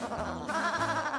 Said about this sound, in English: What are my sheep doing here?